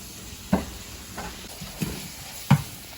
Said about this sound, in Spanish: Revuelva la carne con los otros ingredientes.